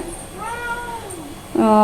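A cat meows close by, one long drawn-out meow followed by the start of a louder second call.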